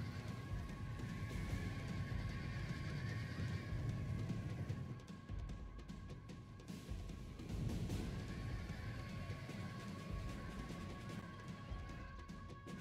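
A dense, muffled battle din from the Total War: Rome 2 video game as cavalry charges, a continuous rumble of hooves and clashing with faint neighs, dipping briefly midway.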